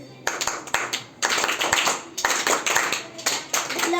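Schoolchildren clap together in a classroom, a group of hands striking in loud, repeated bursts of claps, with voices heard between and under them.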